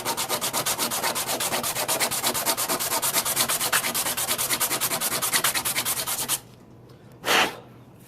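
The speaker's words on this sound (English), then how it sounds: "we'll take a piece of sandpaper and just sand it off the rest of it" Sandpaper rubs a 3D printed snow blower kit part in fast, even back-and-forth strokes, close and scratchy for about six seconds, then stops, followed by one brief swipe.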